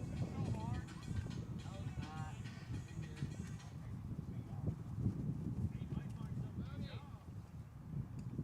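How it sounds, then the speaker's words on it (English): Wind gusting outdoors at a junior varsity high school baseball game, a low blustery rumble buffeting the microphone throughout while voices talk over it. "That wind has picked back up."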